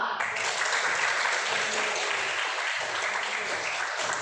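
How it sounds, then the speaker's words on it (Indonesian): A classroom of student groups claps together, a dense, steady burst of applause that holds evenly for several seconds at moderate loudness with no talking over it. "mari kita dulu memberikan aplaus dari kelompok 1, 2, 3, dan 4"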